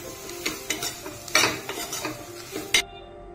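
Vegetables being sautéed in a pan for veg rice bring a series of close spatula scrapes and metallic clacks against the pan over a light sizzle, ending abruptly.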